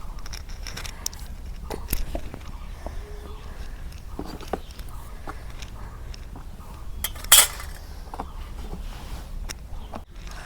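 A metal kadai wok is set on a lit village stove, marked by scattered clanks and scrapes of cookware, one sharper metallic knock near the middle, with light handling noise and soft speech in between.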